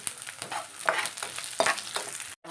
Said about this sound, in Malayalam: ഒരു മീഡിയം സവാള കുറച്ച് കറിവേപ്പില ഇട്ട് കൊടുക്കാം പച്ചമുളക് ഇട്ട് കൊടുക്കാം